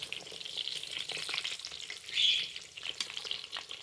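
Raw pork belly pieces for Japanese kakuni sizzle in a pressure cooker pot, a close steady hiss and crackle with a brief louder burst partway through and no speech.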